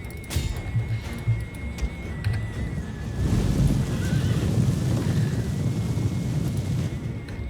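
Cavalry horses neighing amid a Total War Attila battle, whinnies rising over a rumbling din of hooves and clashing troops that swells louder after a few seconds, with no talk.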